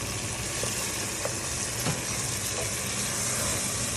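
Fresh tomatoes and green chilies dropped into a pan of softened onions for an Indian thali, giving a continuous dense sizzle with a few faint stirring knocks, close and steady.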